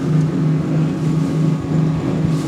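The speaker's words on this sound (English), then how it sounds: "Those engines sound gorgeous" Capelli Tempest 1000 motorboat engines running at high speed during a sea trial off Portugal, a loud, steady droning roar with a strong low hum that holds throughout.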